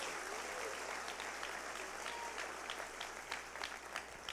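A church congregation applauds during a sermon, a sustained fairly soft patter of many hands with a few sharper claps rising near the end.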